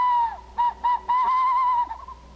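A barred owl call is imitated on a call tool, blown as a loud, hooting sequence in the who-cooks-for-you cadence: a long opening hoot, two short notes and a sustained wavering hoot, close up with no talking.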